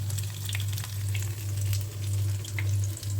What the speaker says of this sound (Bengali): এক এক করে আমি আজকের ইফতারগুলো সব ভেজে নিচ্ছি